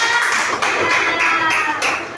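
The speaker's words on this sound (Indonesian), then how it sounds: "Tepuk tangan buat teman-teman" Classmates in a classroom give a round of applause, a dense, steady burst of many hands clapping close by for about two seconds, with no voices over it.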